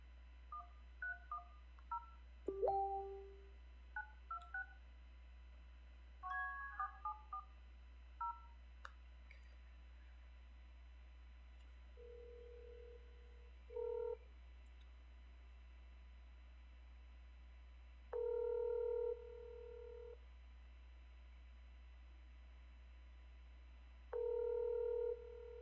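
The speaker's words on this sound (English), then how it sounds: "That's the third ring for Reham." Telephone call placed to a number: a quick series of touch-tone dialing beeps, then repeated ringback tones in evenly spaced bursts over a steady line hum, with no talk.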